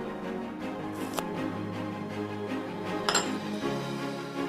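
A spoon clinks against a bowl while chopped mint, curry leaves and coriander are mixed into peanut chaat, with soft scraping and a few sharper taps standing out at close range.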